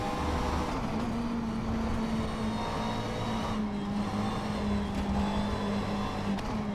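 A race car engine in a VR racing game drones at high, steady revs near the limiter, loud and unbroken throughout with no speech over it.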